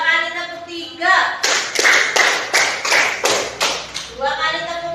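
A class of schoolchildren claps in unison, two sets of three sharp, loud claps in a steady rhythm, framed by a voice speaking before and after.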